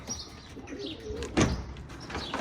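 Female pigeons released as a flock for flight training call with soft coos and chirps, and a brief flurry of what may be wingbeats stands out near the middle, all set against light outdoor background noise.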